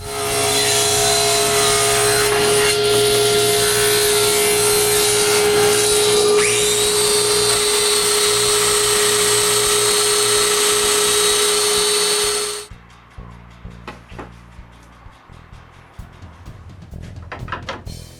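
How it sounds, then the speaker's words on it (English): Power saw cutting through the wooden base of a six-drawer dresser, a loud, sustained whine for about twelve seconds that abruptly stops, followed by scattered quiet knocks and handling noises. "Now I cut the base of the dresser."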